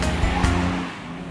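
A 1966 Mercedes-Benz 230 SL on a kart track, its engine a steady close drone with a brief surge partway through, then easing off slightly.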